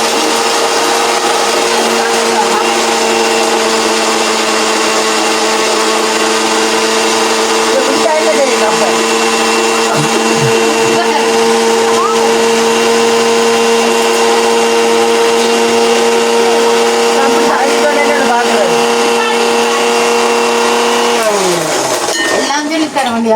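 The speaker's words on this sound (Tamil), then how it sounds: "இந்த ஒரு வெங்காயமும் கொஞ்சம் உப்பும் போட்டு செந்திரமும் மிக்சியில் அடிச்சு கொண்டு வரட்டும்" A kitchen mixer grinder whirs loudly and steadily, grinding onion and salt for sambal, its motor hum holding for about twenty seconds before winding down at the end, with voices talking faintly beneath.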